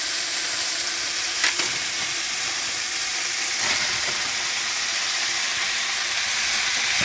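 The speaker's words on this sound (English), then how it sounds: "I'm going to add some chopped up onions" Frozen chopped onions hiss and sizzle in a hot pan alongside mostly cooked chicken, a steady broadband frying crackle that fills the whole span, with a couple of brief louder bursts as the pan is disturbed.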